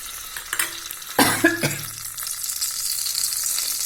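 A few metal clinks and scrapes on a pan, then ghee heating in the pan sizzles with a steady, growing hiss.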